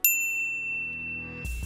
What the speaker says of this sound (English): ring the bell to get notified about our latest videos